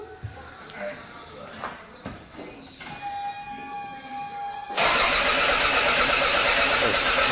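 A Toyota 3SGTE engine in an AW11 MR2 cranks and fires for its first start, settling into a loud, steady idle after a few seconds of quieter shuffling and background voices.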